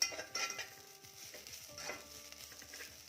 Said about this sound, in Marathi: कोथिंबीर आपल्याला फक्त परतून घ्यायची आहे यामध्ये ती छान भाजली जाते